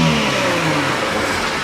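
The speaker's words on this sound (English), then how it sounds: "A typical Commodore rev up." A Holden VT Commodore engine revs loudly and close, a sustained roaring rise in pitch from the motor.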